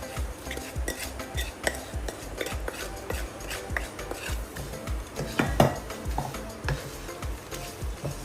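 A spoon stirs a spiced oats namkeen mixture with red chilli in a pan, giving a dry, scraping rustle broken by repeated light clinks and taps of metal.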